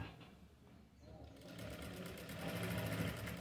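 A sewing machine stitches thread piping onto fabric, its motor starting after a quiet moment and running in a steady, close whirring rhythm that grows louder toward the end.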